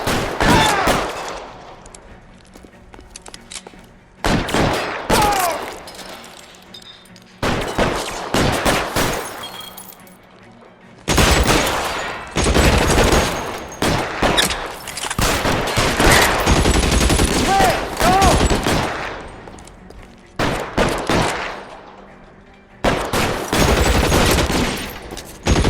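Loud bursts of rapid gunfire in an L.A. Noire shootout come in repeated volleys separated by short quiet gaps, with brief voices between some bursts.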